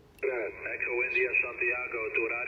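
A weak amateur radio station received on HF, a continuous band-limited voice coming through the receiver with a hiss and a thin, tinny tone, steady and moderately loud.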